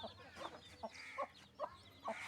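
Hens with chicks on a farm give short, faint clucks at a loose, repeating pace, several soft calls spaced a fraction of a second apart over low background noise.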